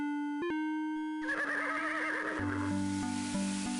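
A synthesized horse whinnies in the retro adventure game King's Quest VI, a shrill neigh over electronic game music with tonal beeps and low notes.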